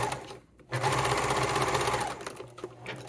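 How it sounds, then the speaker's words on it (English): A sewing machine top stitches across a fabric wallet, running in one steady close burst after a brief quiet start, then slowing to a few softer stops near the end. "And then I am going to sew across this"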